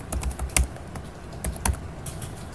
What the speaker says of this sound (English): So I'm typing quick on this